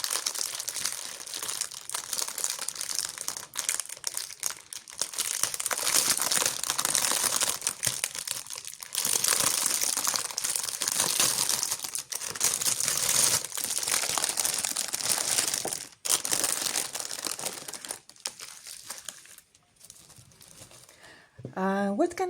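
Cutout diamond painting sticker sheets being handled, giving a steady run of close plastic crinkling and rustling that continues almost without pause, with brief quieter gaps.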